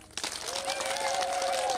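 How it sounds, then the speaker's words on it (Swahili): A crowd at an outdoor political campaign rally bursts into applause, a dense wash of clapping and cheering that swells suddenly and holds, with a whistle-like tone rising above the noise. "Jipigieni makofi."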